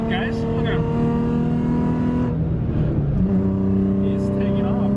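A car engine revs hard and pulls away, its steady tone dipping briefly mid-pass before climbing again at higher pitch. The engine stays fairly loud and continuous throughout, with voices talking over it.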